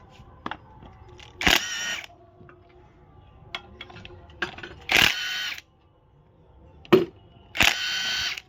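Timing cover bolts are undone on a 2020 Hyundai Creta diesel engine during an overhaul. Three loud, close bursts of a power tool, each about half a second, are separated by scattered sharp clicks and taps.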